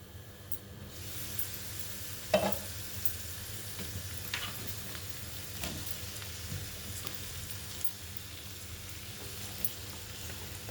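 Chopped tomato sizzles and is stirred in a pan for a Telugu dosakaya and chana dal curry, a soft steady frying hiss with occasional light scraping clinks of the spoon, close but quiet.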